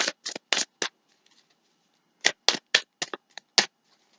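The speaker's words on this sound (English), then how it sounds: "We're going to shuffle" Tarot cards are shuffled close up in crisp short riffling bursts, a quick cluster of four, a pause of near silence, then another run of several sharp riffles.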